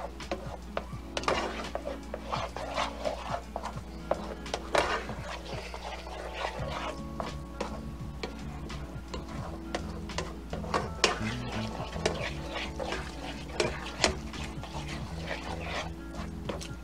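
Butter is stirred into a parmesan risotto in a pan, with soft scraping and wet, thick stirring in irregular strokes over a low steady hum, faint and close.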